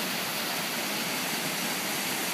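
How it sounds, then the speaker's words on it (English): A waterfall along a hiking trail in New Hampshire's White Mountains, a constant broadband rush of falling water, steady and enveloping with no other sounds. "on the way there, you see some other beautiful waterfalls"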